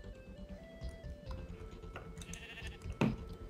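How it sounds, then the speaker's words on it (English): A Minecraft sheep bleats in a game world, a short wavering electronic-sounding bleat standing out over soft background music and game ambience, with a brief thump near the end. "I hear a sheep."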